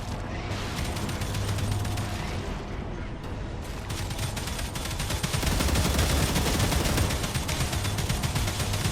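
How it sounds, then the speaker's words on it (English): Automated turrets in the video game StarRupture fire continuous rapid bursts at enemies, a dense, loud barrage that keeps rolling throughout and grows heavier in the second half. "Those two guns at the end should be shooting them."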